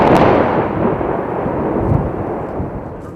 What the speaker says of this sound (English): it's the largest explosion ever to be detonated here on post